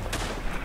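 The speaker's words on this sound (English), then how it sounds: "Oh, there's artillery coming on the point we're capping." An artillery blast sounds in the World War I shooter Tannenberg, a single faint, muffled burst that fades quickly into low rumbling.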